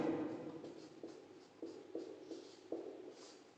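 Marker or chalk strokes on a board, soft scratchy rubbing in short bursts with a few distinct taps, quiet and close with no talk.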